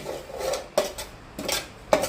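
A metal spoon scrapes and clinks against a pan in a few separate strokes, stirring tempering into food, close and fairly quiet, with no talking.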